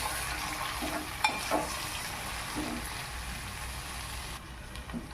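Curry of potatoes being stirred in a pan after chili powder and coriander powder go in, a steady broadband frying hiss with a few soft spoon scrapes and clicks, moderately close, no talking.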